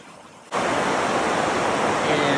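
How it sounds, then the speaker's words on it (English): A small waterfall beside the Beartooth Highway roars in a steady, loud broadband rush that starts abruptly after a brief quieter moment and then holds unbroken, close and full. "This is a little waterfall off the Beartooth Highway. It is really roaring."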